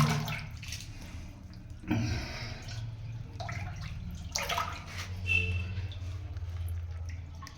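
Chest-deep water around a submerged temple sloshes and swirls as people wade through it, with soft splashes and drips close by.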